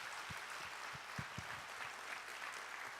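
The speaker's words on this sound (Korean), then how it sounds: "우리 하나님께 감사와 영광의 박수 올려드리겠습니다" Congregation applause at a New Year's Eve church service, a dense steady wash of clapping filling the hall for about three seconds with no talk over it.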